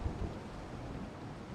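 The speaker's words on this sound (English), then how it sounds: "So we just have to wait till this storm stops." A thunderstorm at sea in the pirate sailing game Salt 2: Shores of Gold, with a steady low rumble of rain and wind and a deeper thunder swell right at the start, fairly quiet throughout.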